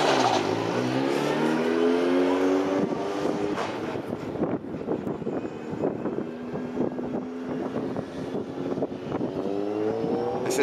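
A Formula 4 race car at the Snetterton test day approaches, its engine note rising and falling through gear changes, loud and buffeted by wind noise on the microphone, then continuing at a steadier pitch as it comes closer.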